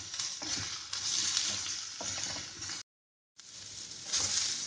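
Vegetables roasting slowly in a pan on a gas stove make a soft continuous sizzle with light stirring scrapes, broken by a brief silent gap and then resuming, with no talking.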